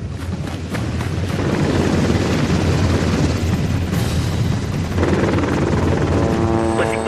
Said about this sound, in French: Il faut retourner à l'hélico.